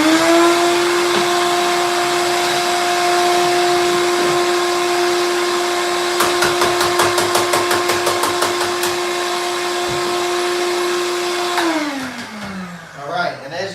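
A bagless vacuum fitted with a filter, one hose vented out a window, drones steadily and loudly while a rat cage is cleaned, with rattling taps over the middle stretch before the motor winds down near the end.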